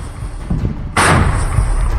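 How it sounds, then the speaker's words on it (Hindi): Bomb blasts in wartime news footage: a low rumble gives way to a sudden loud, broad burst of noise that rolls on to the end, heard at close range with no voices. "विनाशकारी बम धमाकों से पूरा इलाका दहल उठा।"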